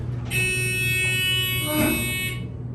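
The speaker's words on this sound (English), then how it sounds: "It did not move for a good like 20 seconds. And then it beeped." A Disney World ride vehicle, after sitting still, sounds a steady electronic buzzer-beep for about two seconds over low mechanical hum, loud and close with no speech.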